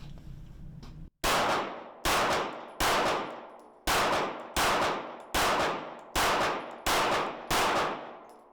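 A Canik handgun fired rapidly at about five yards, emptying the magazine: roughly nine sharp, loud shots in a steady, even rhythm, each with a short ringing decay, following a brief quiet lead-in.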